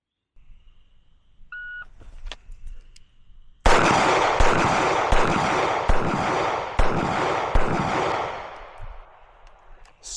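A string of pistol shots from a Smith and Wesson Bodyguard 2.0 during practical shooting practice: after a couple of faint beeps, about eight sharp, loud reports fire in quick, fairly even succession, close by and ringing out between shots.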